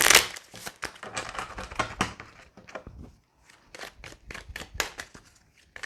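A deck of tarot cards being shuffled by hand, a run of crisp riffling flicks and soft taps coming in uneven bursts with short pauses, close and clear.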